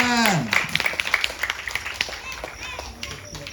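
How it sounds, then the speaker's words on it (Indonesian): Audience applause at a poetry night marking a Pramoedya Ananta Toer centenary, a burst of scattered clapping that begins loudly and thins out over a few seconds, with a voice briefly audible at the start. "Beri tepuk tangan."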